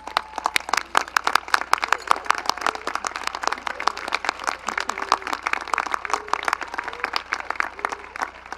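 Indoor audience at a school graduation ceremony giving a steady round of applause for outstanding students, dense continuous clapping from many hands throughout, loud and close.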